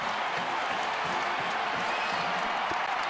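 Massive stadium crowd of about 78,000 at an Oklahoma Sooners college football game after a Big 12 championship win, a dense, steady wash of applause and cheering, broad and continuous with no single voices standing out.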